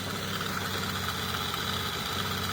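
An ATV quad bike engine idles steadily close by, a continuous low rumbling putter with no speech.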